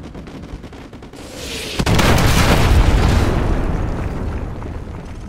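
An artillery strike in a Call of Duty game lands as a loud, close explosion: a sharp crack followed by a heavy rumbling boom that roars and slowly fades after a few seconds of quieter gunfire.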